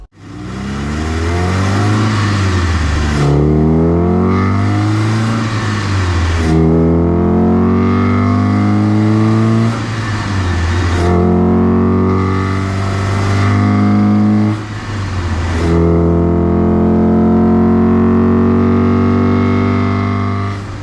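Opel Kadett E GSI 16V with a C20XE engine, 150 hp stock and now 170 hp, revving loudly and close up in a series of long rises and drops with no talk.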